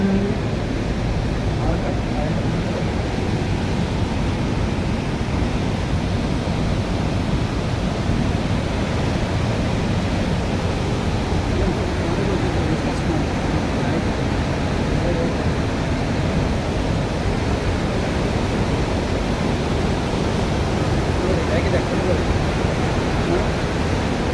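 Rushing river water at Gaurikund roars as a loud, unbroken wash of broadband noise close by for the whole stretch, steady and dense with no pauses.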